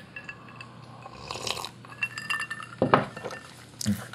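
A drinking glass clinks and knocks against a hard surface indoors during a casual Go game, a few sharp close taps scattered over a few seconds with quiet background.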